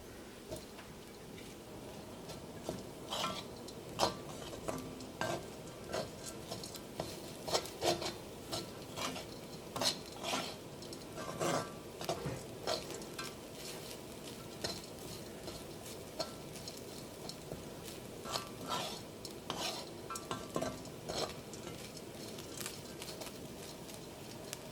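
Grated coconut roasting dry in a pan for Kerala kootu curry, with soft scraping and rubbing strokes of a spatula stirring it in an irregular rhythm, fairly quiet and close, no talking.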